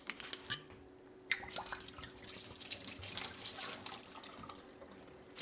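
Green Apple Smirnoff vodka pours from a bottle into a sink, a quiet, steady trickle with splashes and drips that last several seconds.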